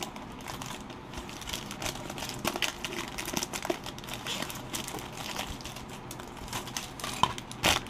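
A Dare to Tear trading card pack, sealed, being handled and torn open, with steady close crinkling and crackling of foil wrapper through the whole stretch, a few sharper rips near the end.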